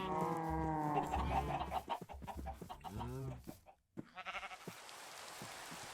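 Minecraft sheep bleat in a short run of wavering calls, fairly close and clear, with some background game ambience and no talk over them.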